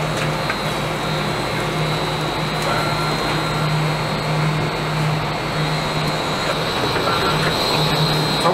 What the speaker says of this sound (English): The chips come from the bunker here and are fed into this cross auger.